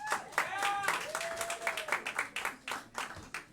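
Comedy club audience applauding and clapping for a stand-up comic, a moderate burst of claps mixed with whoops and cheers from the crowd.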